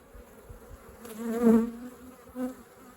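Honeybees buzz close by around an open hive during an early-season inspection, a faint drone swelling as a bee passes near, then fading, with a second brief pass shortly after.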